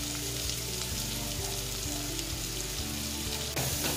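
Onion, garlic, pimento and hot pepper sizzle steadily in a hot pan for saltfish and scrambled eggs, a constant close frying hiss with faint stirring scrapes and a brief louder burst near the end.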